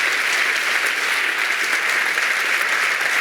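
An audience at the 2015 Vaud sports merit awards applauds the volunteer leader of the year, giving steady, dense clapping at an even loudness with no pause.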